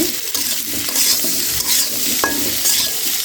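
Potatoes sizzle as they are sautéed in a pan, with a steady close-up frying hiss and the occasional scrape or clink of a utensil against the pan.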